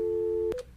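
A steady telephone tone for a disconnected number hums alone on the line, then cuts off abruptly into a brief click and a short fading tone.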